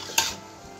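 A single quick scrape of a utensil stirs Balochi karahi in a pan, set over a low steady background sizzle.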